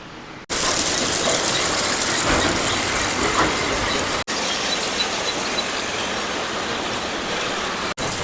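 A large stone crusher mill grinding rock runs steadily and loudly nearby, a dense continuous mechanical roar with rattling and grinding, broken only by brief cuts, with no voices.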